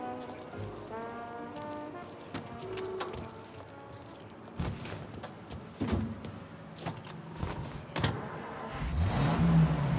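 A car driving in Mafia Definitive Edition, engine hum and road noise with sharp clunks and bumps, moderately quiet, growing louder toward the end, with no talk.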